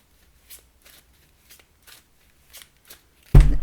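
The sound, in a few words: shuffling Black and Gold Tarot cards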